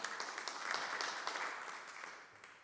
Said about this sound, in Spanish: Un aplauso para el actor invitado.